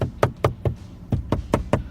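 Knuckles rapping on the all-plastic interior door panel of a 2017 Peugeot 208 Allure 1.2 PureTech, eight sharp hollow knocks in two quick groups of three and four, close and distinct with no speech.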